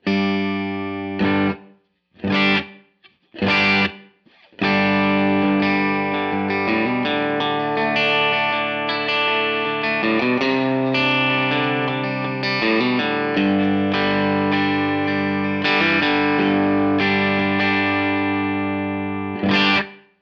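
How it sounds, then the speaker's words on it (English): An electric guitar played through a Line 6 Helix Stadium XL with dynamic ambience reverb: a few short strummed chords, then long sustained, distorted chords ringing out with a subtle roomy tail, loud and alone. "I'm just going to add a little more of this dynamic ambience reverb"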